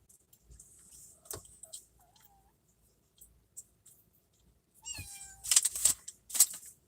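A stressed cat meows several times, short sharp cries scattered through the stretch and louder, clustered calls near the end, heard close in a quiet room with faint clicks and rustles between.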